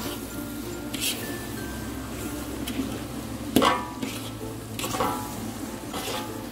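Rendang with lime leaves, lemongrass and bay leaves being stirred in a pan, a spatula scraping and knocking against metal in irregular strokes, with one sharper clank near the middle.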